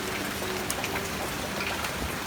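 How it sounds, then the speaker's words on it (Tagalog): Steady rain patters continuously on surfaces outdoors, a dense, even hiss with scattered droplet ticks, moderately quiet. "kasi ngayon medyo maulan"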